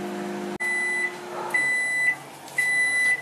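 A microwave oven beeps as it finishes cooking aloo halwa, three steady high electronic tones evenly spaced after a click, close and clear over a faint hum.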